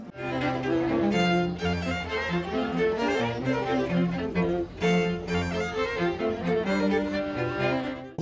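A string quartet plays classical music outdoors at a town music event, the bowed strings sounding steady, full and close with layered sustained harmonies and no talk over them.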